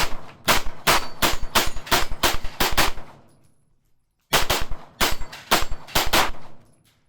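A Sig Sauer P226 X-Five Legion 9mm pistol fires 147 grain ammunition in two fast strings of loud, sharp shots about a dozen each, separated by a quiet gap of roughly a second.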